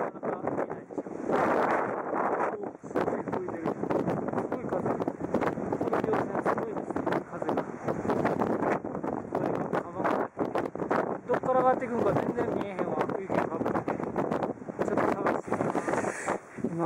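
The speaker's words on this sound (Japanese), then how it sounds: "すごく吹いてます。" Strong wind roars and buffets the microphone near the snowy summit of Kamagatake, a 1000-metre-class mountain, continuous and loud, while a person talks under the gusts.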